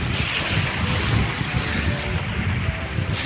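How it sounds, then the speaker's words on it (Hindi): Cool wind rushes across the microphone beside flowing lake water at Petrozavodsk in Karelia, a steady roaring blow with continuous lapping beneath it and no voices. "ठंडी हवा बह रही है, पानी भी चल मस्त बह रहा है"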